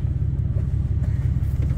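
A Ram pickup truck's engine idles and creeps forward while towing, giving a steady, close, low rumble with no talk over it.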